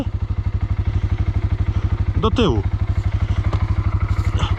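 Quad ATV engine chugging and revving loudly up close while the submerged machine is hauled out of water, with a rapid steady pulse throughout; people talk over it.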